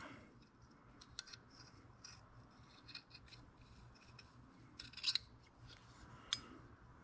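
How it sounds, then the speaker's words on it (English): Scissors snip and rasp along a strip of rabbit hide with dense under fur, a series of soft cuts with a few sharper clicks, close up with no talking. "And I'm gonna run my scissors"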